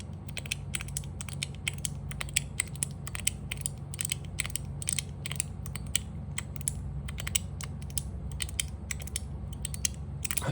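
A metal fidget toy handled up close, giving rapid clicky, ratcheting mechanical ticks in irregular bursts over a steady low background hum.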